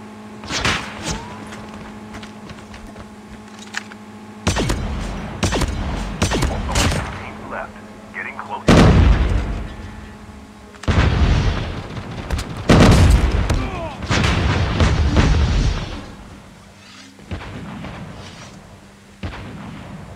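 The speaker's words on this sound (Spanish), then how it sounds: "¿Quién me está disparando?" Gunfire in the mobile shooter game Call of Duty Mobile: dense volleys of shots and heavy booms in irregular bursts, loud and close, with a voice speaking between them.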